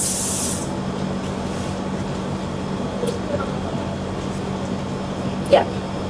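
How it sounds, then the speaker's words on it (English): Face mist sprays from a pump bottle in a short, close hiss at the start. A steady low hum continues underneath, and a faint brief noise comes later. "Why am I spraying my face like this?"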